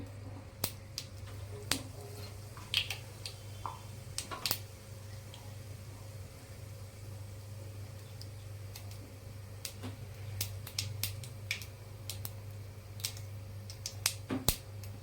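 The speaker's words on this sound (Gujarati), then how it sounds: "1 નાની ચમચી જેટલી આપણે રાઈ નાખીશું." Mustard seeds crackle in about two large spoonfuls of hot oil on a gas stove, giving faint, scattered pops and ticks over a steady low hum with no talking.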